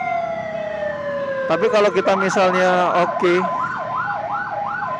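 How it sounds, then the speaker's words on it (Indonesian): An ambulance siren wails on a road as it passes, a loud wavering electronic tone that sweeps up and down over engine and traffic noise, with someone speaking briefly over it. "potong sebentar karena ada ambulan"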